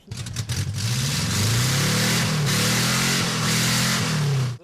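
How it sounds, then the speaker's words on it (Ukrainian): Tuned ZAZ Zaporozhets car engine revving hard and close, a loud, rough mid-pitched roar that climbs and holds through several throttle swells, with no talk. "Він усім демонструє, як має звучати справжній запорожець."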